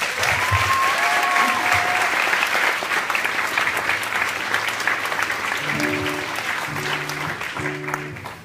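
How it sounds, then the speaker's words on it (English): Audience at a Christmas concert breaks into loud, sustained applause, dense and steady clapping, while a few sustained tones from the stage begin to sound beneath it near the end. "start a huge round of applause for our compares"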